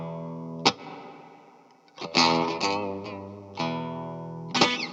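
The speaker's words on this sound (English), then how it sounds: "especially with it amplified, it actually sounds kind of nice, a little overdriven" An amplified Rickenbacker guitar with a little overdrive rings out in several strummed chords and single hits, each note sustaining and fading, with brief gaps between phrases.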